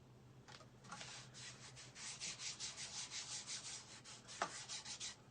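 Faint rhythmic rubbing as an unwaxed painted surface is sanded by hand, short back-and-forth strokes repeating steadily in a quiet room without talking.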